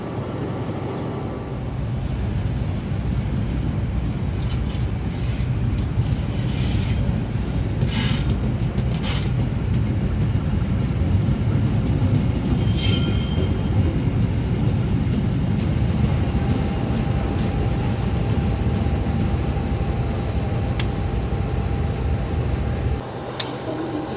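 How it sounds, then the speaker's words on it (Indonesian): Continuous loud rumbling roar of a passing passenger train with a generator car, its steady droning generator hum broadband and constant throughout before cutting off near the end. "Walah, bising dong suara pembangkit."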